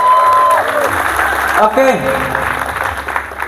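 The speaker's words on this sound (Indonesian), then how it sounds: "Tepuk tangan dong untuk guru-guru kita sekalian" An audience applauds its teachers with a moderate burst of clapping that fades over a few seconds, and a voice speaks briefly over it.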